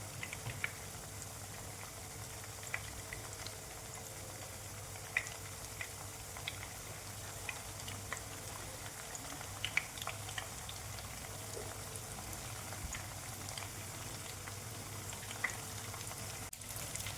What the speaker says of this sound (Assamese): মাছটো তলৰ পৰা ভজা গৈছে অলপ অলপ।